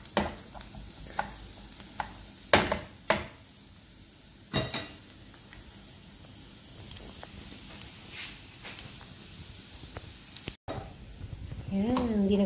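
Garlic frying in a pan for garlic butter shrimp, a soft sizzle under scattered utensil clicks and stirring scrapes, growing louder and busier toward the end.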